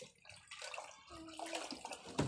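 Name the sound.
water being fetched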